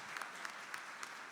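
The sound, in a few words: audience applauding award winner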